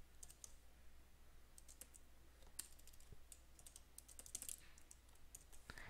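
Fingers tap out a password on a computer keyboard in a quick, uneven run of soft key clicks, close but quiet, with a brief denser burst near the end and no voices.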